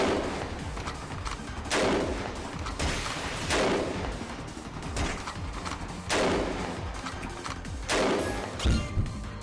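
Sniper gunshots in a video game, several sharp loud cracks spaced a couple of seconds apart over a busy rumbling background, with no talking.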